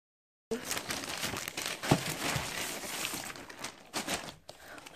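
Victoria's Secret shopping package being opened by hand, close crinkling and rustling of plastic and paper with occasional tearing, soft and continuous over a few seconds.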